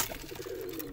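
Pigeons in a rooftop loft housing around 150 paired birds coo softly and continuously, several low throaty calls overlapping at close range with no talking.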